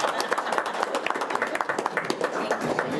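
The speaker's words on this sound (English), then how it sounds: "Let's give them a round of applause" A public meeting audience of the county board of commissioners claps in a sustained round of applause, dense overlapping hand claps at steady volume throughout, with a little crowd murmur mixed in.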